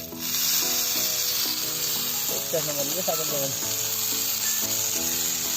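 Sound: chicken sizzling on a griddle pan

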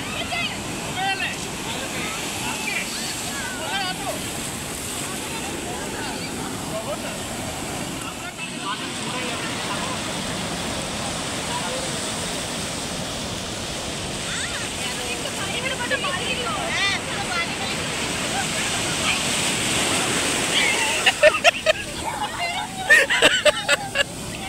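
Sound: sea waves breaking on Puri beach

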